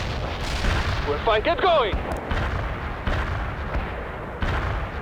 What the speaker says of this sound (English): Artillery strike on our target now.